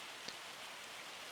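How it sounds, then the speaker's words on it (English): Rain falls in the Farming Simulator 25 video game as an even, soft hiss of steady rainfall with no gaps. It is faint and alone. "like I said, it's raining"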